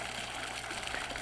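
Steady bubbling and gushing of water in a pond driven by a 60-watt aeration pump, a continuous even wash heard alone at moderate distance.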